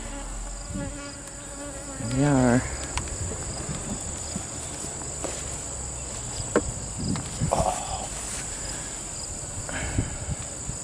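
Honeybees swarm around a hive packed full, some crawling out through a crack, producing a constant close buzz with passing drones near the ear while people talk briefly and things knock and clatter during the inspection.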